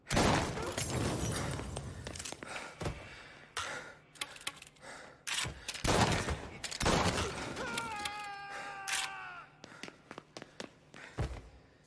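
Gunfire rings out in the video game Mafia Definitive Edition, sharp loud shots in irregular bursts mixed with impacts and game sounds.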